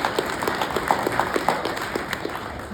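Sparse, fairly faint applause from an audience at a Q&A for the producers of a western film at the Stanley Hotel, a scatter of separate claps with no speech over it.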